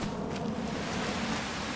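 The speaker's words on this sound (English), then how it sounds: "And it's raining." Steady rain falls in a farming game, a constant even hiss of drops with a low rumbling undertone, unbroken and alone throughout.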